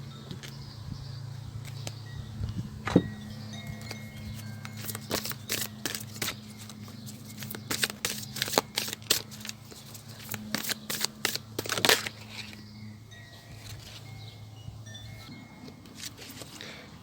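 Tarot cards shuffled by hand in a quiet room, a run of crisp riffling bursts and soft slaps grouped in the middle of the stretch, close and clear over a low steady hum.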